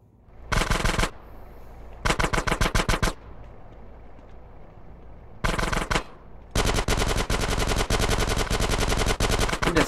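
Automatic gunfire in GTA San Andreas rattles out in rapid bursts, two short volleys, then a longer sustained stream after a pause, loud and alone over quiet game ambience.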